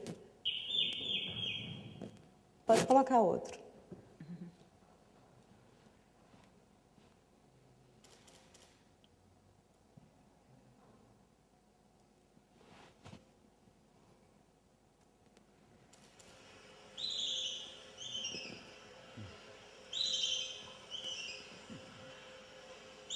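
Bird calls recorded in the jungle: a short whistled phrase opens, then a loud burst of clicks, and later a run of repeated high chirps with quiet forest ambience between, plus a brief murmur of voices.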